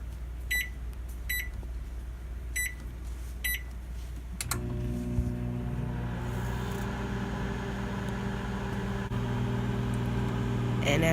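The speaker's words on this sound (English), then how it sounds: "Next, you want to microwave it for 230." A microwave oven heating a bowl of oatmeal with milk, several short beeps from the keypad followed by a steady loud hum as it starts running.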